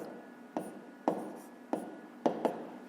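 Pen writing a fraction by hand on paper, a few soft scratchy strokes with sharper taps at about half-second intervals, close and quiet.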